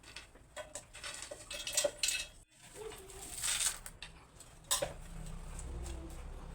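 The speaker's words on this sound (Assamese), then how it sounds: "এটা মিক্সি জাৰ লৈছোঁ আৰু ইয়াতে গোটেই উপকৰণখিনি লৈ লওঁ।" Ingredients for a coriander chutney with peanuts and tamarind dropped into a mixer jar, light clinks and knocks of utensils against the jar in a quiet kitchen, with no talking.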